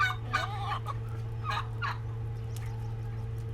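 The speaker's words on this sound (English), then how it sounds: "One of our turkeys there, and then the last of the few." Farm turkeys gobble in the morning at feeding time, several rattling bursts close together in the first two seconds, then quieter, over a steady low hum.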